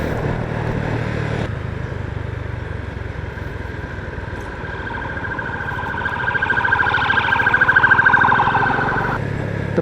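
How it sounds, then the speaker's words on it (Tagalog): An ambulance siren wails loud and close, shifting between tones, then rises and warbles before cutting off near the end, over a constant road rumble. "Ang daming ambulance ah."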